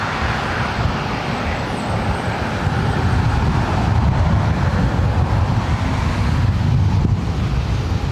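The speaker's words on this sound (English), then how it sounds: "This is Delta Airlines 939 taking off to JFK on a 767 300ER" A Delta Airlines Boeing 767-300ER takes off at LAX, its engines producing a loud, steady roar with heavy low rumble that swells slightly partway through and holds close throughout, with no voices.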